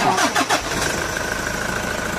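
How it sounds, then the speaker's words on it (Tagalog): A Toyota Hi-Ace van engine with low power cranks briefly with a few quick turns, then catches and settles into a steady, loud idle. "pa-start ko na itong makina"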